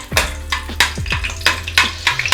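Butter melting into two to three spoons of hot oil for pav bhaji, a steady sizzle beneath repeated scraping strokes of a spoon against the pan, close and fairly loud, no voices.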